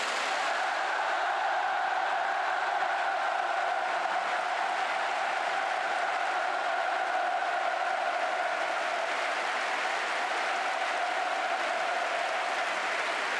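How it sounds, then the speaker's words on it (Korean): A packed stadium crowd applauds and cheers for President Moon Jae-in at the May Day Stadium in Pyongyang, with a dense, even roar of clapping that holds steady throughout. "우리 모두 문재인 대통령에게 열광적인 박수와 열렬한 환호를 보내줍시다"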